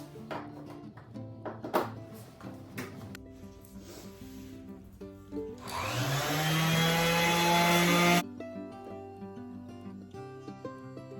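A handheld power sander is switched on against antique wooden bench legs, spinning up into a loud, steady whir for about three seconds before cutting off, with clunks of handling and setup before and quieter knocks after.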